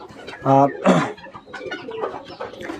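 Bantam and Brahma chickens cluck and call on a small hobby farm, with a couple of loud nearby bursts followed by softer, scattered clucking and some background voices.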